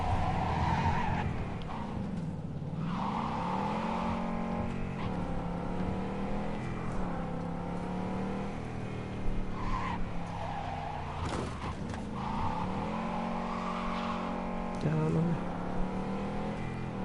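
A car in the video game Cyberpunk 2077 drives steadily with a continuous engine hum, breaking into repeated tire skids and squeals along the way, loud and close with no talking over it.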